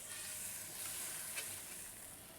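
Mahi mahi sizzling in a grill pan, a quiet, steady hiss of frying fish with one brief faint clink, close and alone without talk.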